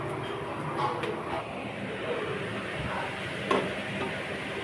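Ginger, garlic and chili paste hits hot oil in a frying pan with fried onions for egg devil, giving a low, steady sizzle with light stirring and a sharper clink of utensil against pan near the end.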